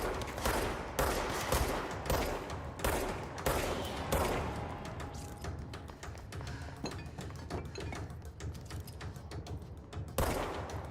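Enemy gunfire in the video game Control: dense, continuous bursts of automatic shots and sharp cracks fill the whole stretch, loud and close, with a few heavier reports near the end.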